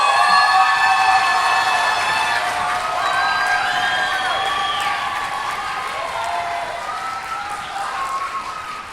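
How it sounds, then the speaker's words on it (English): Sustained applause and cheering from an audience at a high school spring concert, a steady crowd wash with voices and whistles above it, continuing for several seconds. "Can you just give them another round of applause?"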